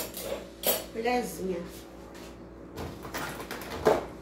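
A spoon is picked up among dishes while making tapioca with coconut butter in a home kitchen, giving a few light metallic clinks and clatters, with faint speech-like sounds between them.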